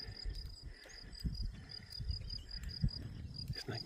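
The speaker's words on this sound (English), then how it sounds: "Isn't it grasshoppers?" Grasshoppers or similar insects chirp in a steady, repeated high-pitched pulsing on a mountain walking route. The sound is faint and distant in an outdoor setting with light background rustle and no talk.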